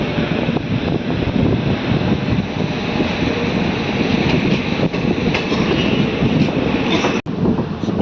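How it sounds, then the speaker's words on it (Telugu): A DEMU train runs steadily on the Nandyal–Kurnool Town line, heard from on board as a continuous loud rolling rumble with faint rhythmic wheel clatter, easing as it slows down. "స్లో చేశాడు మన ట్రైన్"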